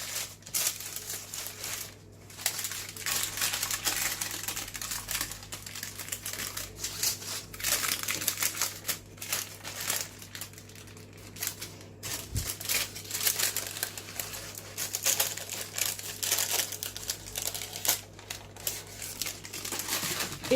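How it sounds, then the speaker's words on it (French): Parchment baking paper crinkling and rustling as it is laid over a freshly unmoulded sweetened condensed milk cake, steady close crackling that goes on throughout, quiet and with no voices. "Je vais mettre dessus du papier cuisson."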